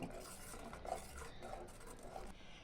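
A metal spoon scrapes and clinks rhythmically against a pot while almond milk is stirred over a low flame, with a faint sizzle underneath.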